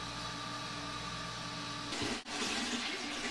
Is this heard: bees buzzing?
no